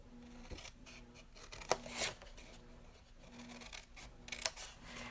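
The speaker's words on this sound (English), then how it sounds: "With your snips, we're going to cut, see these squares on the sides? We're going to cut right up those squares" Metal snips cut up the side squares of festive card stock in a series of crisp, close snipping crunches with faint rustling between them.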